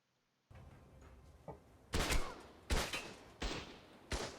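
Heavy shotgun fire in H1Z1, heard as four or five loud, close blasts spaced roughly every half to one second, each with a short rumbling tail, following a faint crack.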